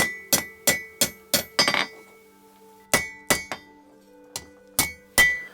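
Blacksmith hammering hot metal on an anvil while forging tongs, about a dozen sharp ringing strikes in irregular bursts with brief pauses, close and loud.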